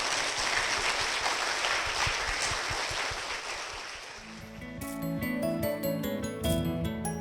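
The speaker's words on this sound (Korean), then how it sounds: "박수 부탁드리겠습니다" A church congregation applauds two members, a full burst of clapping that fades after about four seconds as soft instrumental music with sustained tones rises in its place.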